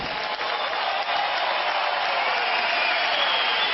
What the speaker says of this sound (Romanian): Aplaudat la scenă deschisă Marius Zaronskis